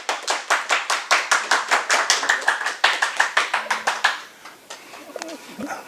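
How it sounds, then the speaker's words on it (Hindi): An audience at a speaker event claps in a steady, rhythmic beat, dense and fairly close for about four seconds before tapering off into a few scattered sounds. "एक बार जोरदार तालियां बिस जी के लिए"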